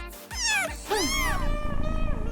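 A small kitten meows loudly and close, two drawn-out rising-and-falling cries followed by softer trailing sounds.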